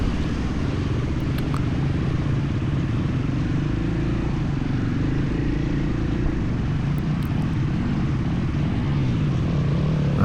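A 2018 Husqvarna FE 501 dual sport motorcycle rides forest trails, its single-cylinder engine a steady, loud, close drone that holds without pause for the whole stretch.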